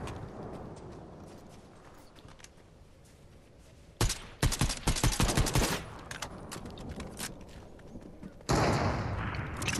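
Gunfire in the video game Fortnite: after a quiet stretch, a dense cluster of sharp, loud shots rattles out in quick bursts, then a steady burst of noise follows near the end.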